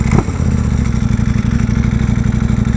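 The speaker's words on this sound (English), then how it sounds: "Yeah, this bike is loud and obnoxious, but I love it." An Aprilia RSV4 Factory sport bike engine booms very loud and close, a deep rapid pulsing rumble after a brief sharp burst at the start, steady throughout with no voices.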